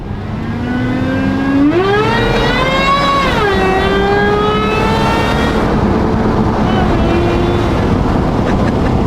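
A supercharged Toyota Tacoma engine drones loud and close while driving, with a high supercharger whine that climbs as the truck accelerates, then eases and holds steady under wind noise.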